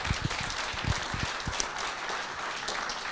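Audience applause at a live product demo, a dense wash of clapping from many hands, steady and moderately loud throughout the brief moment.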